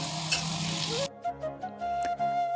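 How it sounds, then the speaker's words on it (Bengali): Potatoes fry in a kadai of hot oil, a loud hissing sizzle for about a second that then drops to a quieter, intermittent crackle with brief utensil sounds, close by and with no talking. "তো এখন একে একে আলুটাকে আগে প্রথমে ভেজে নেব।"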